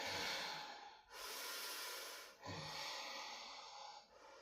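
Three long, breathy exhales in a row during a vinyasa yoga class, each a sustained airy rush separated by brief pauses, close and steady with no talking.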